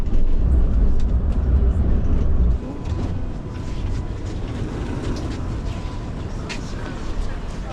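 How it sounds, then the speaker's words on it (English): Tram ride through Kraków, a steady loud rumble of the rolling car with a heavier low roar easing after the first few seconds, continuous engine and wheel noise throughout with no voices. "So we just took the tram and paid for that."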